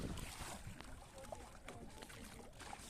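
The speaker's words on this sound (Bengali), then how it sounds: "রাকেশ ভাই বোটিং করছে" A small boat moves across the Damodar river, with faint water lapping and wind rumbling against the microphone in a soft, continuous outdoor wash, with no clear speech.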